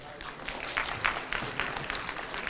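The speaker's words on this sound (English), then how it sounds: "a round of applause for all the companies that have pitched today" Sparse, moderate applause from an audience at a business competition honors the pitching companies; scattered claps patter unevenly over a soft room background for a couple of seconds.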